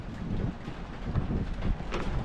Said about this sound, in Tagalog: ang lalaki ng patak ng ulan